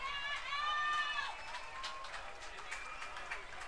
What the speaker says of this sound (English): He touches home, and the Harwich faithful has gone berserk here at White House Field.